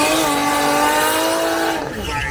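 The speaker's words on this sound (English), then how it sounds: "Strong burnout, short but strong" A VL Commodore does a short, strong burnout at an off-street drag strip, its engine roaring loud and close with tire squeal layered over it before the sound eases near the end.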